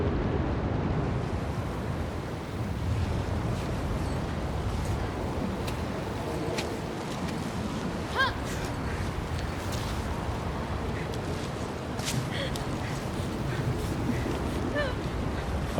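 Steady rushing water from a waterfall beside a climber clinging to a mountainside in the video game Cairn, a constant broad wash of noise holding at even loudness throughout, with faint game sounds flickering on top.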